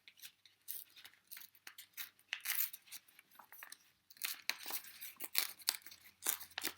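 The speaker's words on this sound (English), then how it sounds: "you're going to tear the edge" Paper tearing as the edge of a book page is ripped for a craft background board. The short, crisp rips and crinkles come in bursts close up, with brief pauses between them and no talking.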